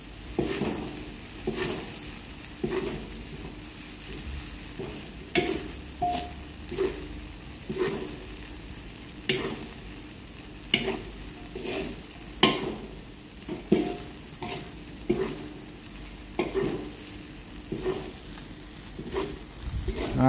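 Rice vermicelli stir-fries in a pan under a soft constant sizzle, with regular scraping strokes of the spatula tossing the noodles and a voice speaking faintly now and then.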